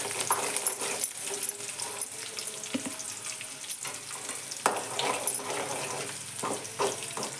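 Cumin and mustard seeds fry in hot oil, giving a continuous crackling sizzle with scattered sharp pops and occasional stirring clatter, fairly close and steady throughout.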